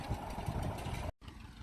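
An open-station farm tractor engine idles steadily close by during a third hay cutting in Michigan after a drought, then cuts off abruptly near the end before resuming more faintly.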